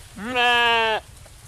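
A single clear bleat from a high-cross sheep, a two-tooth ewe kept with others bound for Sylhet, rising then holding steady for about two-thirds of a second, close and loud over a quiet background.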